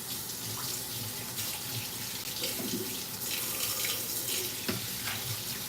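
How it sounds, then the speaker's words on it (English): Tap water runs steadily into a sink during hand washing before frying catfish, a continuous close splashing stream with brief clatter and no speech. "Let me wash my hands"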